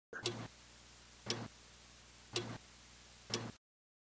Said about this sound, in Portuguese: O pêndulo e o escapo trabalham juntos para criar o som do tic-tac que você ouve.